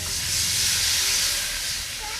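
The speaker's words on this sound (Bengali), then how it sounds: "বাটির মধ্যে যে মশলাটা ছিল সেই বাটি ধোয়া জলটা আমি দিয়ে দিচ্ছি।" Spice-bowl rinse water goes into a hot wok holding fried fish and sets off a loud, close, broad steamy hiss that swells quickly and then eases slightly over about two seconds.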